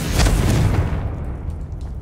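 A Confringo blasting curse in Hogwarts Legacy goes off as a loud, close booming explosion that rumbles deeply and then decays over about a second.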